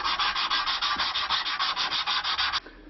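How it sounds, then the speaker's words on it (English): Cloth-back sandpaper rubbed briskly over the heel of a wooden stick dulcimer, a steady rhythmic rasp of quick back-and-forth strokes, loud and close, stopping abruptly near the end. "This enables me to finish the heel using this cloth-back sandpaper."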